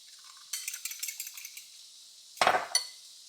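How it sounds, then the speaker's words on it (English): Two eggs are whisked in a mixing bowl for buttermilk pumpkin pancake batter, making a run of quick, light clinks and taps, then a louder scraping clatter near the end, close and quiet. "We're going to kind of halfway scramble, scramble up 2 eggs."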